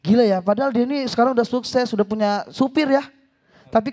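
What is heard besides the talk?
None of the usual background noises is heard.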